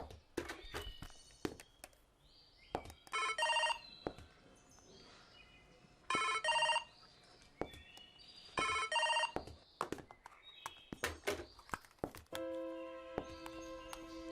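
A telephone rings in a quiet room during an outgoing call, three repeated ring bursts spaced a few seconds apart amid small taps and knocks, followed by a steady electronic tone.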